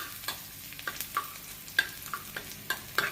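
Food frying in a pan, a soft steady sizzle with scattered stirring clicks and scrapes, fairly quiet and close, no talking.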